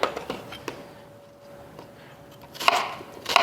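An onion being chopped with a knife on a board, a few sharp close knocks spaced out at first, then a quicker cluster of cuts toward the end, with a faint background hum.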